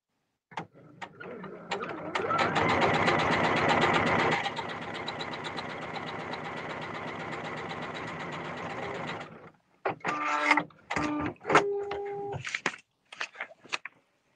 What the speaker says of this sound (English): I'm just going to do a quick straight stitch